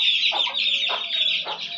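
Backyard chickens, a hen with her chicks, cluck close by in short repeated bursts over a constant high chirping from the chicks.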